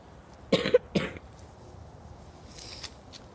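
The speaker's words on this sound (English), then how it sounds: "I have a little bit of a cough." A couple of short, hoarse coughs close by, followed by quiet room noise and a faint rustle.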